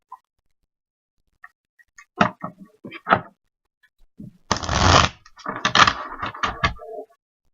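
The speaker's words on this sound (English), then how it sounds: "just shuffle and draw 3 cards and see what we get" Close-up tarot card shuffling: a few soft riffles and taps, then a louder flurry of cards being shuffled, ending in scattered light snaps.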